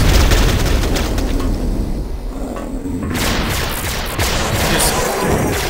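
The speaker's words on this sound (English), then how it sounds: "Toss the pipe bomb behind the crates. Enjoy the fireworks." A pipe bomb detonates in Duke Nukem 3D, a loud booming blast with rumbling low end that fills the opening seconds, then settles into a sustained roar and crackle of debris and lingering game noise.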